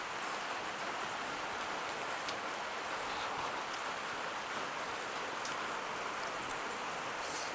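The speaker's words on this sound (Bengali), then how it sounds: "এত মেঘ করে আছে আর এত বৃষ্টি হচ্ছে।" Heavy rain falls steadily in the misty, cloud-covered hills of Kurseong, a dense continuous hiss of drops on surfaces with no voices, even and unbroken throughout.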